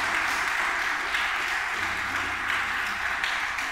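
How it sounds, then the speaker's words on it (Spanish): A church congregation clapping together, a steady, continuous wash of applause from many hands at even loudness throughout. "Dele un aplauso al Señor, que no lo estoy regañando."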